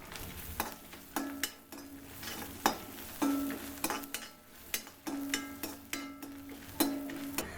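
Cumin, crushed ginger-garlic, curry leaves, green chilli and dried red chillies sizzle in hot coconut oil for chicken 65, with a spatula stirring and tapping the pan in a steady rhythm close by.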